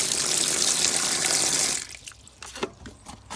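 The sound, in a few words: water being poured into horse feed buckets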